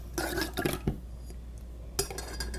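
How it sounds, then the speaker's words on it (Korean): A spoon or whisk clinks and scrapes against a bowl while salt is stirred into a tomato marinade, giving a quick cluster of sharp taps early, a pause, then another clink, close and moderately quiet. "소금이 잘 녹도록 잘 섞어 주시고요."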